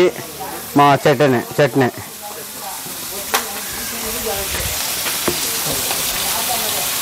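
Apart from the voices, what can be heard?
fish frying on a tawa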